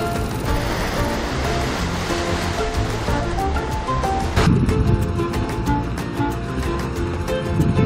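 Rough sea waves breaking along the shore at Pohang, a steady broad roar of surf that grows heavier midway, with tonal music layered over the water throughout.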